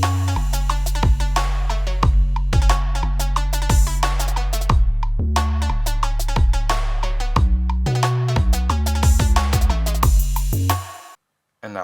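A Trap Nation style electronic drop built in GarageBand on iPad or iPhone, with pounding sub-bass, sharp repeated synth hits and steady rhythmic percussion. It runs loud and continuous, then cuts out briefly near the end.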